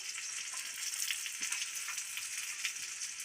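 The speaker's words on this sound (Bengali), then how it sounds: "এভাবে এক এক করে সবগুলো ভেজে নেব" Steady, crackling sizzle of shrimp and cabbage pakoras frying in hot oil, close and continuous with small pops, no voices.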